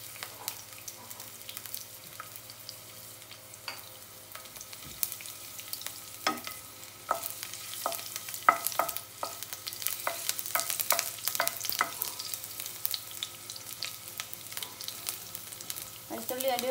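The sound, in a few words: garlic frying in hot oil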